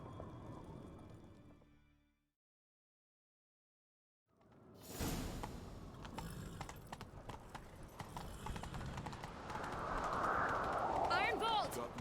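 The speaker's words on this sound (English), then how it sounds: "Grab a horse, we'll chase him down." Horse hooves clip-clop at a gallop during a chase in The Witcher 3, starting after a brief silence and building into fast rhythmic hoofbeats with rushing wind, under game dialogue and sound effects.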